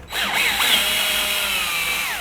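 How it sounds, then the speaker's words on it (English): A power drill taps threads into a 3D-printed part with a loud, continuous high-pitched whine. Its pitch wavers and then slowly falls as the bit bites in, with no speech. "you're going to provide your drill, let it go in a little bit,"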